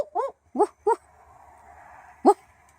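A captive barking owl at a wildlife sanctuary gives a doglike double-note woof call, three times in quick succession and then once more after a pause, fairly close and clear over quiet background.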